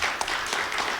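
A brief burst of audience applause from a small group of friends at a morning event, dense steady clapping filling the whole moment, fairly loud and close.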